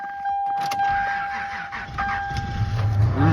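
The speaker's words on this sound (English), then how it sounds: "gotta warm up my truck" A pickup truck's engine warms up at idle, a steady low rumble close by that grows heavier toward the end, with faint jingling and rattles on top.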